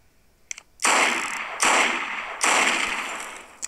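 Three slow, evenly spaced gunshots fired from a weapon in the video game Hypper Sandbox, each a loud, sustained blast with a trailing decay and short pauses between.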